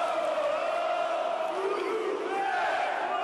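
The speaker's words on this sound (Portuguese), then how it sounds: "a torcida do Cruzeiro canta aqui em São Paulo" Cruzeiro football fans chant loudly and in unison inside Allianz Parque stadium in São Paulo during a match against Palmeiras. The dense crowd singing swells and sustains throughout as a continuous wall of voices.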